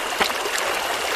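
A tropical jungle stream in Costa Rica flows in a steady, close, bright rush of water with small gurgles and splashes throughout, and no voices.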